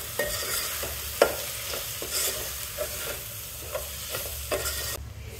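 Biryani masala and salt being stirred into rice in a pot for kushka, repeated scraping and stirring strokes with soft clunks over a light sizzle, close and alone.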